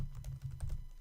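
Quick, soft keystrokes on a computer keyboard as a terminal command is typed, a brief close run of light clicks over a low background hum.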